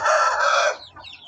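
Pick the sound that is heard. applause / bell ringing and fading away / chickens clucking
chickens clucking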